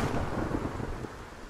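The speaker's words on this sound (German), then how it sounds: "Diese verdammten Blitze, ne?" Thunder from the lightning storm in the Titan Souls video game rumbles loud and low, a dense rolling boom that slowly fades away, with no voices.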